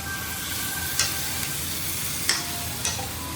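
A steady, close sizzle fills the pan as tomato paste from two tomatoes is stirred into chicken curry, with three light spoon clinks against the metal rising over the constant frying hiss.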